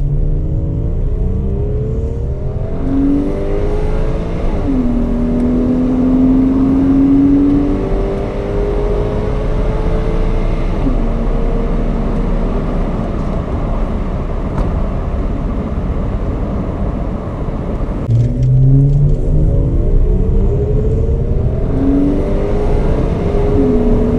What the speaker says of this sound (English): I'm going to put it in drive and we're going to punch it.